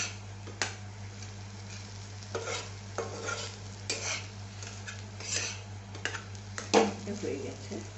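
Spiced mashed potato filling for aloo paratha stirred and scraped in a pan, intermittent scraping and clinking strokes with a faint sizzle underneath, close and moderately quiet, with no talking.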